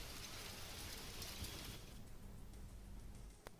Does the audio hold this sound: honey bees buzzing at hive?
no